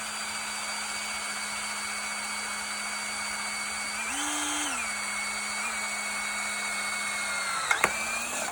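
Power drill boring into a part of a Woodland Mills sawmill at half speed, a steady whining motor drone that briefly rises in pitch midway, with a couple of sharp clicks near the end, no talking.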